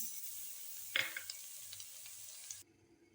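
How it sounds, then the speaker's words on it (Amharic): Garlic frying in a pan, a soft steady sizzle with a sharper crackle and a few light stirring clicks, cutting off abruptly near the end to near quiet. "ትንሽ ብቻ እንዳደለ ነጭ ሽንኩርቴን አረጋለሁ።"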